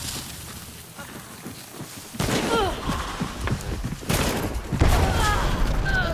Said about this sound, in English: Hand cannon.